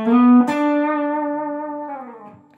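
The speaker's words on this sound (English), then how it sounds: "that's going to give us our lick over the A form bar chord." Guitar lick over an A form barre chord played slowly, with a sustained note bending into a ringing held tone that fades out, plus a quick pick attack partway through; solo instrument, no talking.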